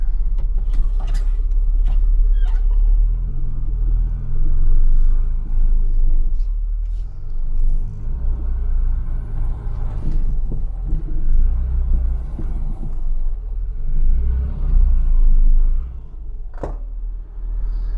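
A roughly 50-year-old British Leyland Austin Allegro being driven, with a steady low engine rumble and road drone heard from inside the car, plus occasional knocks and a few faint voices.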